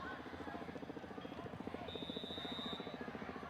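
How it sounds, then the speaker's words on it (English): A helicopter circles overhead near a high school football game, a faint rhythmic rotor chop pulsing steadily in the distance. "Sounds like a helicopter circling around."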